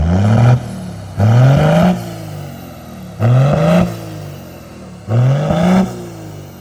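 An 81 Series Land Cruiser engine with a 3-inch straight pipe exhaust revs four times in even, repeated bursts. Each rev rises to a deep, raspy roar and then drops back to a rumbling idle, loud and close.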